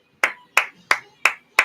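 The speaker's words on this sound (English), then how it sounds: "I'm applauding you guys right now." Five crisp hand claps ring out in an even, slow rhythm, close and alone with no other sound.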